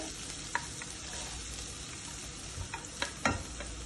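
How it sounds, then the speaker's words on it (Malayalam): Green chilli and garlic sautéing in hot oil in a pan, a steady soft sizzle with a few light stirring clicks and scrapes, close and fairly quiet. "ഗ്രീൻ ചില്ലി ഒന്ന് വഴന്ന് കഴിയുമ്പോൾ ഗാർലിക്"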